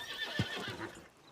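A horse gives a short, faint whinny, a brief breathy call with a slight rise, heard at a distance.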